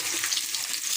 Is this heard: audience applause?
no